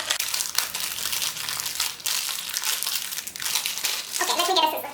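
Plastic packaging of an Indus Valley hair spa conditioning mask crinkles and crumples continuously as the packet is torn and opened up close, with rustling bursts throughout.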